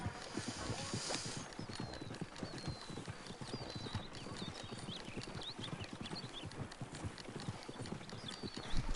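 Horse hooves in the video game Red Dead Redemption 2: a steady, rapid clip-clop of a horse on the move, continuous and moderately loud, with a faint whinny.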